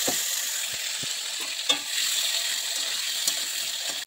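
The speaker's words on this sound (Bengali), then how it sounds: "এবার আমি ডুমো ডুমো করে যে আলুগুলোকে কেটে নিয়েছিলাম সেগুলোকে এবার ভেজে নেবো।" Diced potatoes frying in hot oil for a fish curry, giving a loud, steady hiss of sizzling with a few brief sharper crackles, close up and with no talking.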